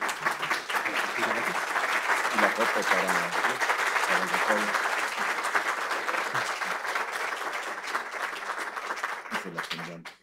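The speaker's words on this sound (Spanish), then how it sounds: "un aplauso, por favor" Audience applause at an academic seminar award presentation, sustained dense clapping from a crowd for about ten seconds, steady and fairly loud before fading out at the end, with faint voices beneath.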